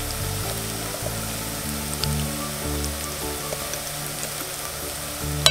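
Chopped onions sizzle steadily in hot oil in a pan while turmeric goes in, a continuous close crackling hiss with a low hum beneath it and no voices.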